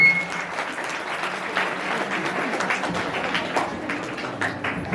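A crowd at a school Teachers' Day award ceremony claps continuously, a full, even wash of applause with individual claps standing out here and there.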